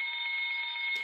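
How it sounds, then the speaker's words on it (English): Steady electronic fire alarm in a video game set in a building where a fire broke out: a continuous, even, piercing tone with no breaks, sounding alone for about a second before a brief burst of noise at the end. "Bloody alarms."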